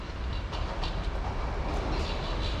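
Vienna U-Bahn metro train pulling into a station on the line to Hütteldorf, a steady loud rumble of wheels on rails with faint clatter, continuous throughout with no talk.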